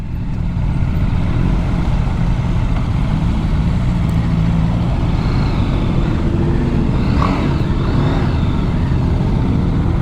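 Engine of a 2022 BMW G 310 R entry-level motorcycle, heard close as a steady continuous drone that rises slightly as the bike pulls away, with no talk over it.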